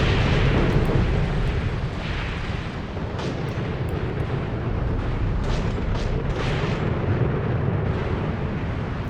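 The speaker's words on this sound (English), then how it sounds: "They're not big fans of this bombardment, but we're going to keep it going" Artillery fire from American mobile guns pounds German tanks in a WW2 video game battle, heard as a loud, continuous wall of rumbling booms and blasts with no talking.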